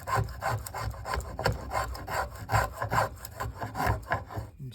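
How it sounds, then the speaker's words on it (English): A spokeshave shapes a wooden tomahawk handle in a series of rhythmic rasping strokes, roughly one every half second, close and steady with no talk. "planing or spoke shaving short grain towards long grain"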